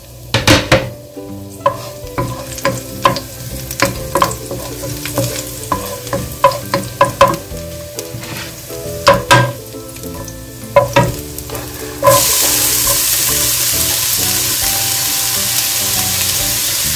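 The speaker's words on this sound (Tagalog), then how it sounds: "igisa ko na yung bawang at sibuyas." Garlic and onion sizzling in a hot pan as a Filipino sauté for bell pepper stuffing, with repeated stirring scrapes and clinks over a steady frying hiss that swells loud and constant near the end; no one speaks.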